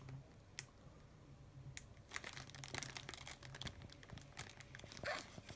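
Quiet, intermittent plastic crinkling and rustling, with scattered sharp crackles as a Ziploc bag is handled close by while fitting an oiled RC car air filter.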